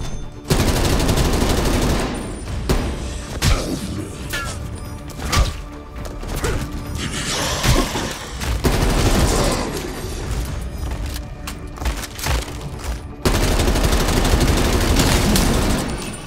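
Gunfire in Call of Duty Black Ops Cold War Zombies on PlayStation 5, loud sustained automatic bursts with heavy impacts and crashes, a brief lull mid-way, then renewed dense firing.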